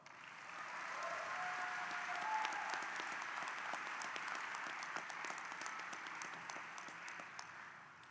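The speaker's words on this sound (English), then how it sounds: "please take a moment to show your appreciation for all of their support by giving them a round of applause" Sustained applause from a large crowd in a high school graduation ceremony hall, honoring graduates' families and friends; dense, steady clapping swells within a second and holds evenly, somewhat distant and reverberant, with no talking over it.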